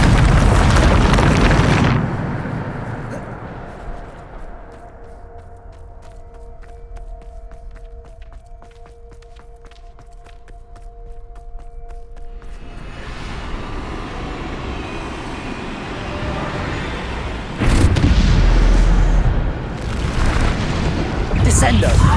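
A Bombarda explosion spell in Hogwarts Legacy hits as a loud, broadband boom at the start, then a quieter rumbling lull, with a second heavy blast near the end and a voice over the action.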